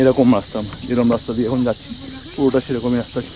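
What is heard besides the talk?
crickets chirping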